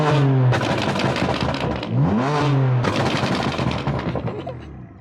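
Loud exhaust crackles and pops rattle off like gunfire as a nearby BMW F-series engine, tuned with BootMod3 in sport mode, revs up and down, the popping fading toward the end.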